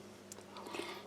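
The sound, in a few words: eating crunchy crackers from Polish Arpol ration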